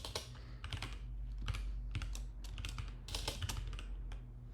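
Rapid typing on a computer keyboard, with irregular bursts of clicking keystrokes, near and fairly loud, over a steady low hum and no talk.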